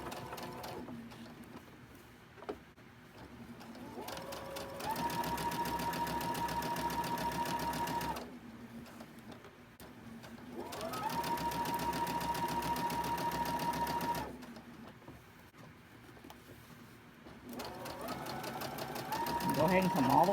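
A sewing machine stitching fabric for a quilt block runs in three steady whirring bursts with pauses between them, fairly faint, with a low hum beneath.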